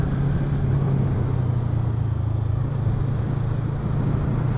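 A Yamaha MT-125 or MT-03 motorcycle engine drones steadily while riding in fifth gear at about 60 km/h, a constant close mid-pitched hum with wind and no talking.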